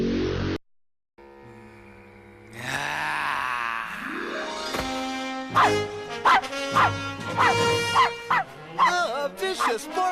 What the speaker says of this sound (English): A vicious barking rabbit.